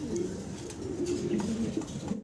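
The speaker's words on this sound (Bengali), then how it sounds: "খুব সুন্দর ডাকাডাই করতেছে দেখতেছেন" A male and female pigeon at a bird market give soft, repeated throaty coos, close but quiet, with no talk over them.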